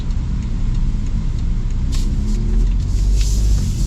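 A BMW 2 Series Gran Coupe, front-wheel drive, accelerates on the road, with a loud, close, steady engine and road rumble that swells slightly toward the end, no talking.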